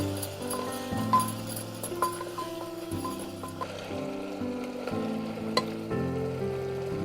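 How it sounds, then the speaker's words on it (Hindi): Coriander and turmeric fry in hot oil with a steady sizzle and occasional stirring scrapes and clinks, under faint background music with no talk. "अब हम इसमें डालेंगे धनिया, हल्दी, इसे तेल छोड़ने तक भून लीजिए।"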